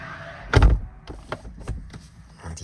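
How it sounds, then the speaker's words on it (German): A solid Rolls-Royce Cullinan door closes electrically and thuds shut up close, followed by a few faint mechanical clicks and soft knocks in a quiet cabin. "So, dann machen wir die Tür zu hier."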